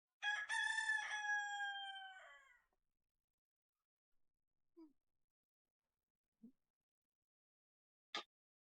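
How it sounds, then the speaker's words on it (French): A fighting rooster crows once, loud and close, a full cock-a-doodle-doo lasting about two seconds, then falls quiet apart from a few faint, brief knocks and clicks. "que faire de ce coq de combat?"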